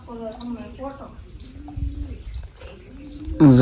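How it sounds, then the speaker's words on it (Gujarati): Pigeons coo in a few soft, repeated phrases close by, with brief chirps and a louder burst at the end. "તડકોના કબૂતર આટા મારે તો અહીંયા આવે"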